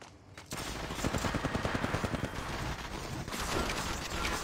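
Automatic gunfire bursts in Apex Legends Mobile, a rapid run of evenly spaced shots for about two seconds followed by another noisy burst, fairly close and loud, with no talk over it.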